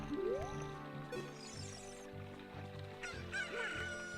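Chicken, a cucco from the video game Ocarina of Time, gives a quick rising squawk near the start, followed by game sounds that include honking, clucking-like calls and repeated electronic tones. The clip has no talking.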